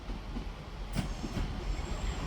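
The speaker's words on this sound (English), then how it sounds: "here we have a terminating Northern service from Crewe" A terminating Northern passenger service from Crewe rolls into Manchester Piccadilly, with a low rumble, wheel noise and a couple of brief squeals from the wheels on the rails, moderately near.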